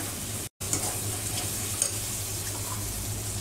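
Potatoes sautéing with ginger and salt in a pan, a continuous close sizzle with light stirring scrapes and a momentary cutout near the start.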